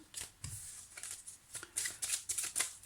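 Tarot or playing cards being shuffled by hand during a card reading, a quiet series of soft riffling bursts and papery slaps that grow denser toward the end, with no voices.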